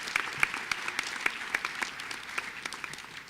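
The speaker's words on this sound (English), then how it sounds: "Please give yourselves a huge round of applause" Scattered applause at a high school National Honor Society induction ceremony, a modest crowd of clapping hands with a few sharper nearby claps standing out, no talk.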